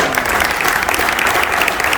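An audience applauding steadily and loudly at an event in Marbella honouring a new doctor in Hispanic Philology, dense clapping throughout with no pauses.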